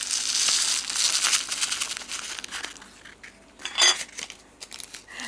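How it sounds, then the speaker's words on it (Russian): Crinkly rustling of a plastic bag with embroidery beads clattering and pouring in, close up, fading toward a few sharper rattles at the end. "Вставляем в пакетик и быстро высыпаем бисер"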